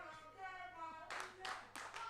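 At a live wrestling show, a few sharp rhythmic claps ring out from the crowd after an announcer's sustained voice, landing roughly every third of a second.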